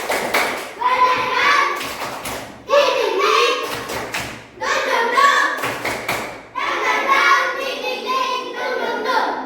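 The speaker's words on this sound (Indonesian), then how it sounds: "Ustaz bilang tepuk semangat" Elementary pupils in a classroom chanting a rhythmic spirit-clapping routine in unison, loud bursts of voices punctuated by sharp group claps and thumps in repeated phrases.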